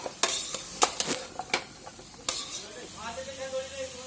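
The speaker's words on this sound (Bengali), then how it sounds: "একটু ভালো করে কষিয়ে নেব।" A lentil dal mixture sautés in a pan, with a series of sharp spoon scrapes and knocks over a soft sizzle, close up; a brief voice comes in at the end.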